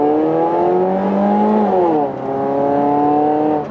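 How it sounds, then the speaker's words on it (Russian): Exhaust note of a Mazda Axela accelerating, a loud steady engine drone rising in pitch, dipping briefly at a gear change, then climbing again. "Что прикольно, это именно звук выхлопа."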